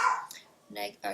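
A dog barks in the background in a couple of quick bursts, mixed in with a person talking.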